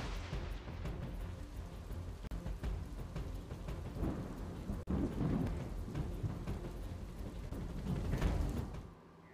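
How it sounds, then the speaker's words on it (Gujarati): Heavy monsoon rain pours down in a steady roar over low-lying, waterlogged land in Banaskantha, Gujarat, with deep rumbles of thunder rolling beneath it and no one speaking. "તો બનાસકાંઠામાં સતત વરસાદ થઈ રહ્યો છે."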